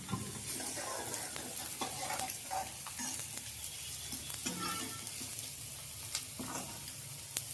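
Onions fry in a pan for a paneer curry, with a steady sizzle broken by repeated scraping strokes of a spoon stirring, close and fairly loud with no talking.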